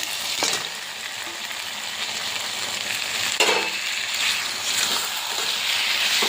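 Pieces of fried chicken tossed into a hot frying pan and stirred with spiced masala, giving a steady loud sizzle broken by sharp scraping stir strokes, with no talking.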